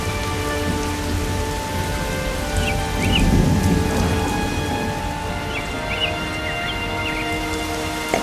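Steady rain falls in a Hindi cartoon about a village storm, a dense, continuous hiss of drops on surfaces that swells briefly, with faint rumbling beneath and no talk.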